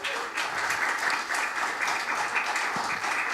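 A church congregation applauds during a worship service, a steady, dense wash of clapping from many hands that holds evenly throughout with no talking over it.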